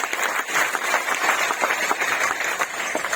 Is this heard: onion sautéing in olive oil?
no